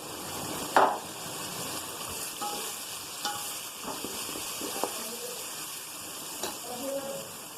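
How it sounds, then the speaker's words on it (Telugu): Chopped tomatoes being stirred into a puffed rice mixture in a pan, a soft steady sizzle with occasional light knocks and clinks from the spoon, close and moderate in level, no speech. "కలబెట్టిన తర్వాత మనం ముందుగా కోసి పెట్టుకున్న టమోటాలు వేసుకోవాలి"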